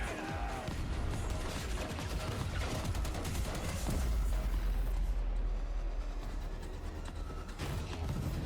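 Rapid gunfire from the Warhammer 40,000 Darktide trailer, dense bursts of shots over a rumbling game soundtrack, loud and continuous with a short lull near the end.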